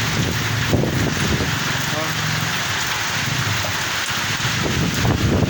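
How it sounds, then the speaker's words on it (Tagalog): Heavy typhoon rain lashes a house in San Fernando, Pampanga, a loud constant roar of water with gusting wind and occasional knocks, close to the microphone. "Ayan yung bahay namin dito, ano, sobrang hagupit ng bagyo, oh."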